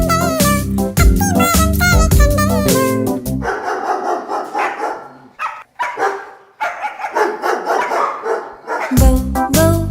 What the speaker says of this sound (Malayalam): ബൗ ബൗ നായക്കുട്ടി യേശുവെ നീ കണ്ടുവോ?